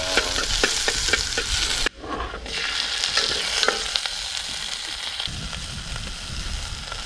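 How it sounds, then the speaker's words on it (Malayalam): Mustard seeds crackle and pop in hot oil for an egg dish, a dense steady sizzle with sharp pops clustered early, one brief drop near two seconds, then continuous frying. "പ്രാവശ്യത്തെ മുട്ടയിൽ കുറച്ച് കടുക് പൊട്ടിക്കണ്ടേ?"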